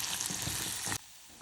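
Walnut kernels caramelizing in a saucepan over low heat, giving a steady close sizzle that stops abruptly partway through, leaving quiet background.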